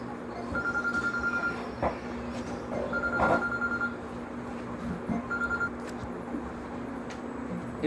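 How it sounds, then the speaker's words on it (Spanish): A lone telephone ringing during a church sermon sounds in three separate trilling bursts over a steady hum, with a few soft knocks and room noise between rings. "Ahí hay un teléfono solitario."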